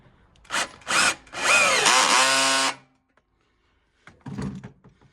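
A power driver tightens a metal hose clamp onto corrugated pipe, with two short whirring bursts followed by a longer sustained whine that slows and drops in pitch, then a brief rattling handling sound after a pause.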